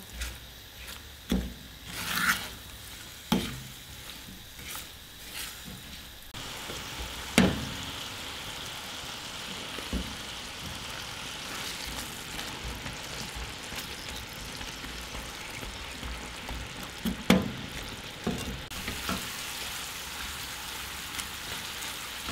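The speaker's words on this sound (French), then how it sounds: "Les plures vont cuire dans un sirop qui va se former doucement, doucement." Orange peels simmer gently in a slowly forming sugar syrup, giving a soft continuous bubbling sizzle, with occasional sharper clinks and knocks from a utensil or pan.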